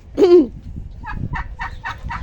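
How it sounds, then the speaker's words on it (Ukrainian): A chicken in a farmyard gives one loud squawking call, then several short clucks follow in a quick, steady series, close by and clear. "Ух, які кури поприбігали."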